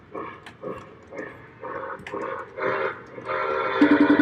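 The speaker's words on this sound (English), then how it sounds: "Let me turn off the train." A running O gauge model train gives a rhythmic series of chuffing bursts that grow louder and busier, ending with a sustained horn or whistle tone, heard close up.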